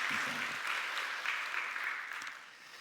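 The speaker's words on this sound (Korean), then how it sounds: "우리 박수 드리겠습니다" A church congregation claps briefly to welcome a newly registered member during a Sunday service, a soft, fairly distant patter of hands that tapers off toward the end.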